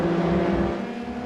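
A Formula 3 race car engine in the iRacing video game holds a loud, steady, buzzing drone that shifts slightly in pitch, close and continuous with no talk over it.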